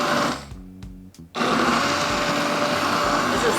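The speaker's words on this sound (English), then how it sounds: "Now we're gonna use the immersion blender." Immersion blender whirring through soup in a pot, a loud steady motor drone that briefly dips and stutters before running at full, constant power.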